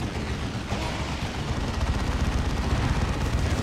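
Rocket run airstrike in the strategy game Warhammer 40k Dawn of War 2 during a 3v3 match, a dense rattle of rapid impacts and blasts building into a continuous rumbling barrage.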